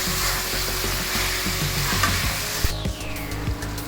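Mutton kasha being stirred and fried in a pan, a steady loud sizzle with scraping and clinking of the spoon throughout, heard alone.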